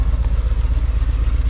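Close idling motorcycle on a road near Amalfi, a deep continuous chugging with regular quick pulses, loud and steady throughout.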